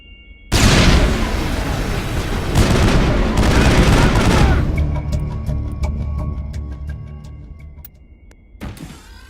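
Sustained rapid gunfire from a firefight in the video game Mass Effect, loud and dense for several seconds, then thinning into scattered shots and fading, with a final short burst.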